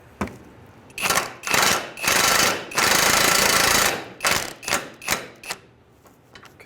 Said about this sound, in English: we're just going to get these bolts snugged up